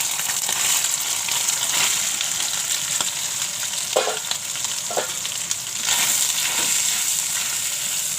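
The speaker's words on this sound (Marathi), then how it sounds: "तेलावर चांगले भाजून घेते." Squeezed soybean chunks fry in hot oil in a kadhai, giving a loud, steady, close sizzle with occasional soft scrapes of stirring and no voices.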